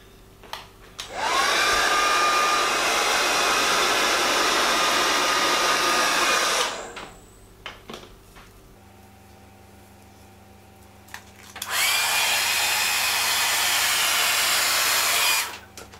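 A hair dryer blows loudly and steadily in two long bursts, with a quiet pause between them.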